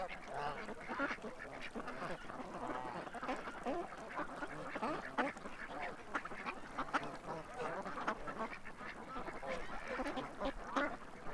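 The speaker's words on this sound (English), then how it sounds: "It's brant geese this year." A flock of brant geese calling continuously, overlapping gabbling honks and croaks, moderately close with no voices.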